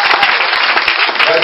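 A church congregation bursts into loud, dense applause that fills the space, steady and close throughout, with cheering voices mixed in.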